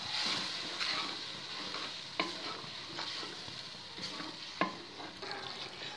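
Spice masala with dry coriander, turmeric and salt sautéing in a pan for a gram flour dish, a steady close sizzle under repeated spoon stirring, with two sharp clinks against the pan.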